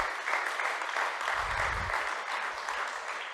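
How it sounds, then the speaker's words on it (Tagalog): A church congregation claps in steady, dense applause that runs from start to end at moderate volume, with no single clap standing out. "Pumalakpak ang mga may Espiritu ng Diyos dito."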